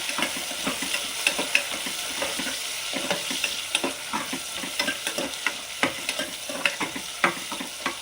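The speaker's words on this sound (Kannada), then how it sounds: "ಈರುಳ್ಳಿ ಒಂದು ಸ್ವಲ್ಪ ಫ್ರೈ ಆಗಬೇಕು. ನೋಡಿ, ಸ್ವಲ್ಪ ಈರುಳ್ಳಿ ಫ್ರೈ ಆಗಿದೆ." Chopped onion frying in ghee in a pan for ghee rice, a steady sizzle broken by frequent scraping clicks of a stirring spoon, close and continuous with no talking.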